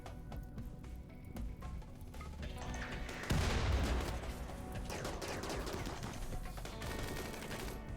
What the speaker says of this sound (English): There's the triple rocket launcher.